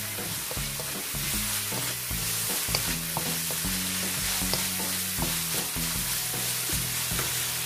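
Green beans are stir-fried with black pepper and tossed in a hot pan, a loud continuous sizzle broken by repeated scraping and clanking strokes of the utensil, close up without voices.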